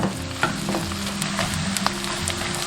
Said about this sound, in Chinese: 炒出油脂过后下入竹笋